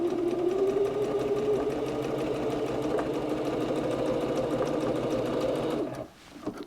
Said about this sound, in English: we're going to go to the sewing machine